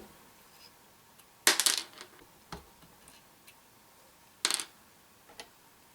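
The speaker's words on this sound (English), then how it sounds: "we're going to go ahead and take these screws out to get the top half of the ring off." Screws are removed from the top half of scope mounting rings on a Ruger 10/22 rifle, giving a few faint metallic ticks and two louder, close rattling clicks in quiet surroundings.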